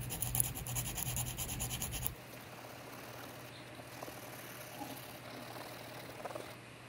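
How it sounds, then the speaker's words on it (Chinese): Hand sanding of metal filler on the damaged front cabin of a metal model aircraft body, a quiet rasping rub that is louder for the first two seconds under a steady hum, then faint scratching strokes. "再进行打磨"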